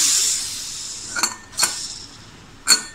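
The lid of a pressure cooker holding cooked red cowpeas and potato is opened: a fading hiss, then three sharp metallic clinks spaced apart, close and fairly loud.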